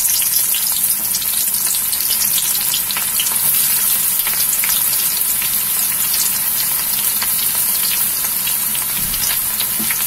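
Onions sizzle and fry in hot oil after mustard seeds have popped, for a spicy, tangy Kottayam-style fish curry; a steady, dense, close crackle runs unbroken throughout with no talking.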